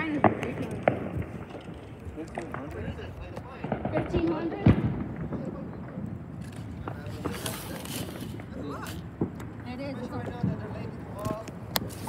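Fireworks pop and crackle at a distance in scattered bursts, with one sharper bang partway through, while people talk and call out over them.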